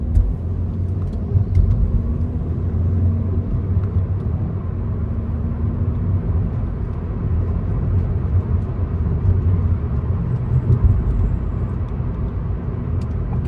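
A car drives along King Fahad Road through a stretch of roadworks, giving a steady, loud engine and tyre rumble that continues evenly throughout with no talking.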